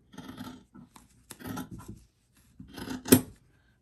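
Scissors snip through fabric in short, quiet bursts while pieces are cut out for a gnome's arms. The cuts come close by in three or four separate rasping passes with pauses between them and a sharper snip near the end.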